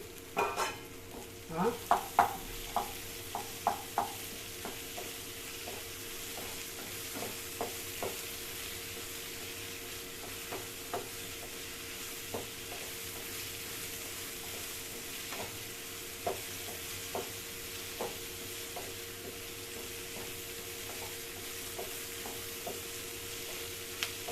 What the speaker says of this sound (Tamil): இந்த ஸ்டேஜில் பூண்டு, தேங்காய், புளி எல்லாத்தையும் போட்டு சும்மா ஒரு வதக்கி